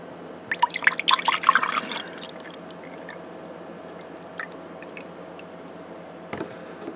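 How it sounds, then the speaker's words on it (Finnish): Kiwi-lime Marlin juice drink poured from a can into a glass, a short burst of splashing, dripping liquid early on, then quiet with a faint later drip or two. "On vähän hankala kaataa."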